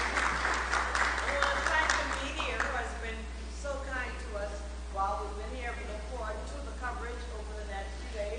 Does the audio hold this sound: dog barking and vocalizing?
no